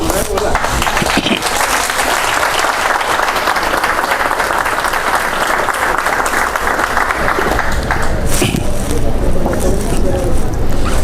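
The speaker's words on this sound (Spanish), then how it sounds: "Vamos a dar un aplauso primero, ¿verdad?" A church congregation applauds steadily for several seconds, dense continuous clapping that thins out toward the end.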